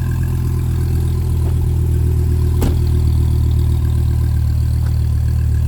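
A 2008 Dodge Viper SRT10 idles steadily close by, a deep engine rumble with a low, even burble from its side-exit exhaust and one brief click partway through.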